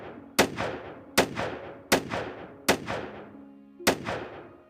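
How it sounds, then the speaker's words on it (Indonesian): Five sharp, loud gunshots from a homemade firearm ring out at uneven intervals, each a crisp crack followed by a brief echoing decay, with no voices. "6 tembakan berhasil mengenai tubuh Dr. Leti"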